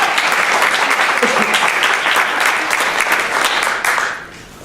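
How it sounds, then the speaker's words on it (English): An audience at a community gathering applauds Dr. Joe Sky, a full, sustained round of clapping that holds steady for about four seconds and then fades away quickly. "would you please stand up so we can give you a round of applause?"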